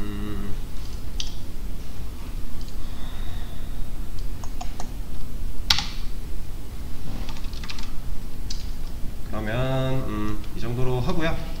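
Computer keys clatter in scattered bursts of close, crisp clicks as someone types Java code, including Shift and Tab presses. Someone talks over the later part of the typing.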